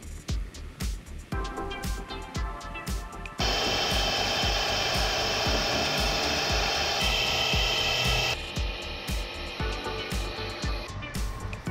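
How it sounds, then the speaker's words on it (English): A CNC machine drills and chamfers an aluminum Nintendo Switch dock, a steady grinding machining whir with repeated short cutting bursts and a louder sustained stretch in the middle, close and with no talk. "So the pocket's done, now it's time to do drilling and our chamfering."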